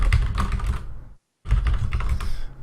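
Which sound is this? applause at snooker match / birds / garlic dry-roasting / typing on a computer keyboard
typing on a computer keyboard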